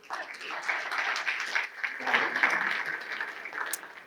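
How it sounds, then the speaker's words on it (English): Applause from the audience at a global pandemic preparedness summit, moderate steady clapping lasting about four seconds, somewhat distant with no clear talking. "she deserves a hand of applause"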